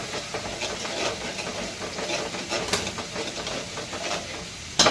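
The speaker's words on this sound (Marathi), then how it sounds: "आता ही आपण अशी परतवून घ्यायची चांगली. आपला एकीकडे मसाला पण भाजत आलेला आहे." Prawn curry masala sizzles and hisses as it is stirred and sautéed in a pan, a steady close sizzle with occasional scraping and a sharp clink near the end.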